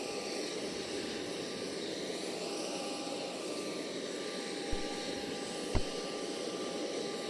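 Steady background roar of a cargo aircraft engine at an airport during unloading of emergency supplies, fairly faint and distant, with a couple of sharp knocks near the end.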